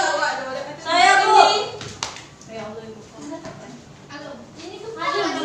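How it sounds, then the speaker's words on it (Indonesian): Primary-school pupils clap for a classmate in a class, a short ragged burst of applause mixed with children's chatter and voices around it. "Tepuk tangan untuk Reda"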